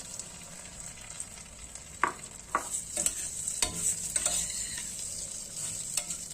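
Bulgur stirred in melted butter in a pot, a steady high sizzle with a few distinct scrapes and knocks of the spoon against the pan, close and moderately quiet.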